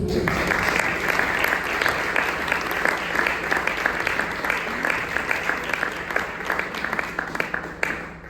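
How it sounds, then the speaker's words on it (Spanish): An audience at a Tecnológico de Monterrey general assembly gives a guest speaker sustained applause: many hands clapping in a steady, moderately loud wash, with crisp individual claps standing out and faint voices underneath. "un fuerte aplauso a nuestro invitado, por favor"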